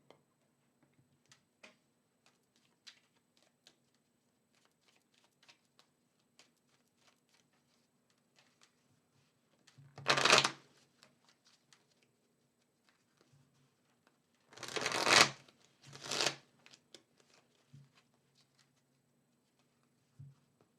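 Tarot cards shuffled by hand in short bursts, one riffle near the middle and two more close together later, separated by quiet stretches with faint ticks.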